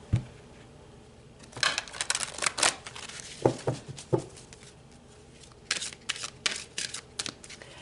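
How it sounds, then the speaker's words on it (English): Tarot cards are shuffled and drawn by hand, making close, crisp riffling and flicking bursts separated by short pauses, with no talking. "So let's pull another card, Cancer."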